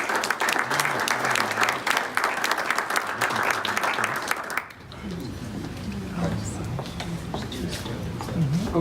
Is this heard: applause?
yes